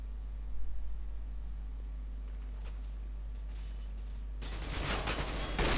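Counter-Strike: Global Offensive gunfire: a sudden burst of rapid, harsh shots near the end, after a quiet stretch with a few faint clicks over a low hum.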